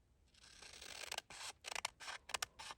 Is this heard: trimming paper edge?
yes